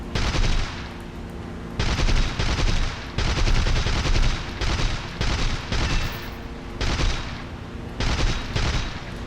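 Machine gun fire from a Bf 110 C-4 fighter in the air-combat game War Thunder, loud sustained bursts cut by short gaps, with heavy cannon-like thumps and no talking.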